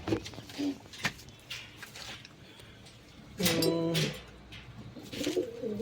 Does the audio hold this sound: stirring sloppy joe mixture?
no